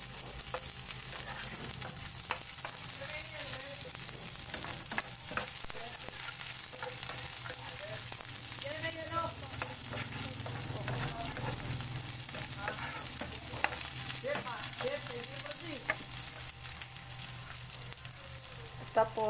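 Garlic and onion sizzle steadily in a hot pan for pancit canton, a continuous close frying hiss with occasional stirring scrapes throughout.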